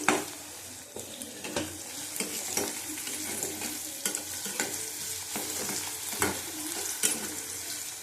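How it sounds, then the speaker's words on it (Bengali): Chopped green chillies frying in a pan for an egg chicken tarka, with steady close sizzling and crackling plus the scrape of stirring throughout, no talk. "ভালো করে ভেজে নেবো। দেবো লঙ্কা কুচি, 4টে লঙ্কা দিয়েছি।"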